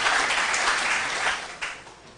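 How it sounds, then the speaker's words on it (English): Audience clapping at a school quiz after team scores are announced, a dense burst of applause that holds steady, then fades and thins toward the end with a brief late surge. "A round of applause, please."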